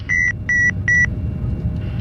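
Cargo compartment smoke alarm in an aircraft cockpit: three evenly spaced, loud electronic beeps in quick succession over a low, steady engine and cabin rumble.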